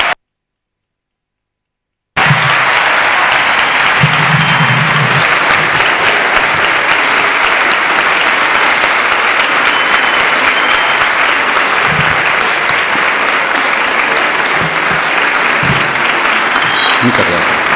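Lecture audience applauding the guest professor Álvaro García Linera: a sustained, dense wash of clapping from a large crowd that starts after a brief silence and continues steadily, with a few voices underneath.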